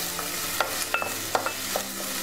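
Chopped onions with curry leaves and green chillies frying in a pan, a soft sizzle broken by several sharp spoon scrapes and taps, close and clear.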